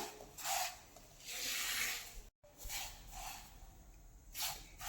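Semolina (rava) is stirred while roasting in a pan over a low gas flame for rava laddoo, giving soft repeated scraping and rubbing strokes in a steady back-and-forth rhythm, close and fairly quiet, with no voices.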